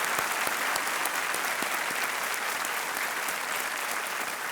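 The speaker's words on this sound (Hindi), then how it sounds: "तालियों के साथ इनका भी स्वागत किया जाए।" A studio audience on the Indian quiz show Kaun Banega Crorepati claps continuously, a thick, even roar of many hands held at a steady level throughout the short stretch.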